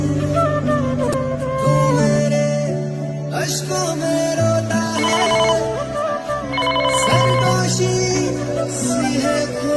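A telephone rings after a number is dialed, heard as a steady melodic ringtone with sustained tonal notes that play continuously for about ten seconds, fairly loud and with no talking.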